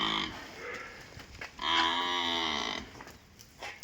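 A buffalo heifer at a livestock sale lets out a deep, drawn-out moo that rises and falls. Softer lowing and moos from nearby animals come before and after it, with light background noise.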